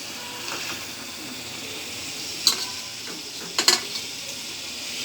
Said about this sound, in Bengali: এখন মাছগুলো একটু কষাবো।